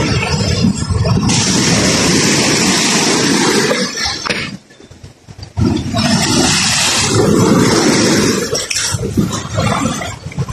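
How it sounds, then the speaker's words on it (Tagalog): Big ocean waves crash at night in rough seas, a loud roaring wash of water that breaks off briefly and then surges back just as heavily. "Lalaki ng alon."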